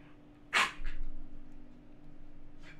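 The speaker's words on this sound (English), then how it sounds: "That's my dog coughing in the background." A dog gives a single short, harsh cough, followed by a fainter second hack, in a quiet room with a low steady hum.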